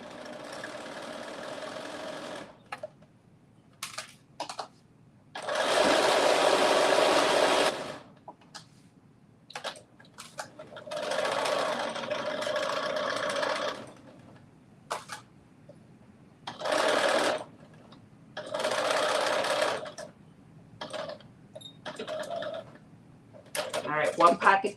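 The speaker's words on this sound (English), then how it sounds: "we're sewing these pockets on" A sewing machine sews pockets onto a New Look 6780 garment in repeated bursts of steady whirring stitching, separated by quiet pauses and handling noises, close and clear.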